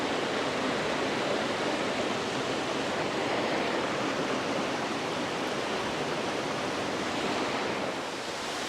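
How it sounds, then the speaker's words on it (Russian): Waterfall cascading along a staircase in the Algar falls of Spain, a dense, steady rushing roar of falling water that fills the whole clip at an even level. "Очень красивый водопад вдоль лестницы."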